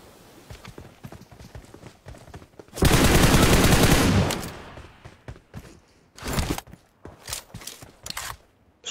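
Gunfire in the mobile shooter PUBG Mobile: a loud sustained automatic burst of just over a second, followed by scattered single shots and short volleys amid footsteps and game noise.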